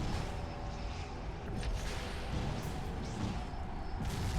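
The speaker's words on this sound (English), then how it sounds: "You're a little bit close to that explosion" An explosion rumbles in the space strategy game Genesis Rising, a dense, continuous roar of battle noise with no pause.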